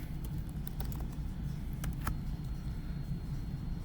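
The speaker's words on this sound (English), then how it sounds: "You just come here and start typing in their name." A name is typed on a computer keyboard: a quick, irregular run of light key clicks over a low background hum, with a few louder taps among them.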